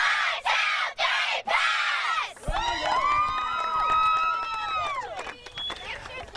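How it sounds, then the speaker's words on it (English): A girls' soccer team at a championship final chants their cheer together in rhythmic shouted bursts, then breaks into loud screaming and whooping. The sound is close and energetic, with an outdoor crowd behind it. "get around and do your cheer one last time here"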